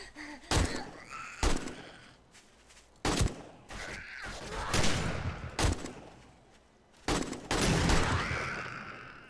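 Video game gunfire including a shotgun: several loud, sharp blasts arrive in irregular bursts, each with a short crackling decay, and no talk between them.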